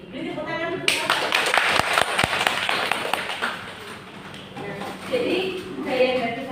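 A classroom of students claps for a classmate, a burst of quick, sharp handclaps that thins out and gives way to murmuring voices, with a brief second flurry near the end.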